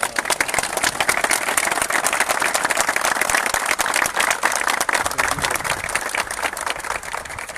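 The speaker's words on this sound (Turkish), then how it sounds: "Biz Bey Piliç ailesine bir alkış istiyoruz şimdi sizden." A crowd at a Beypiliç and Boluspor signing ceremony claps for the Beypiliç family. The applause is dense, sustained and loud throughout, with no break.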